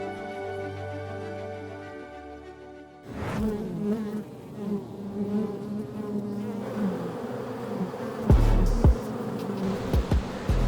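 Honeybees buzz around small wooden hive boxes in Slovenia, first as a steady tonal drone and then as a denser, shifting swarm hum close by, with a few brief thuds near the end.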